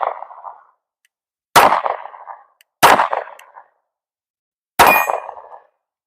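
Four sharp metallic clangs ring out as 9mm pistol rounds strike a 6-inch steel silhouette target downrange, each hit spaced about a second apart and decaying quickly, with no talking.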